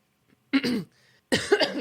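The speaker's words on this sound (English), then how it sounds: "I have to clear my throat like every 5 seconds when I'm recording." Two quick, raspy throat clears close to the mic, separated by a brief pause.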